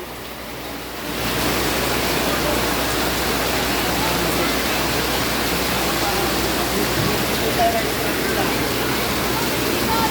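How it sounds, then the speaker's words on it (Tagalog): Steady rain falls outdoors as a dense, even hiss that swells after the first second and holds constant. "Naulan guys, naulan."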